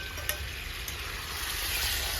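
Papaya and potato pieces sauté in a frying pan for a prawn curry, giving a steady, close sizzle and crackle that holds fairly even throughout, with a couple of small sharp pops early on.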